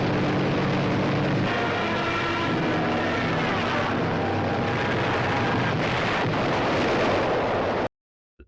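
A WWII D-Day newsreel explosion erupts in a loud broadband blast, a rumbling roar lasting several seconds amid rough wartime background noise before cutting abruptly to silence.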